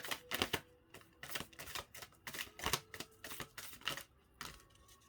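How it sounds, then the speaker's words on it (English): Crisp, snappy bursts of cards being riffled and bridged, repeating in quick irregular clusters for several seconds, fairly quiet and close with no talking. "Such a hard deck to shuffle."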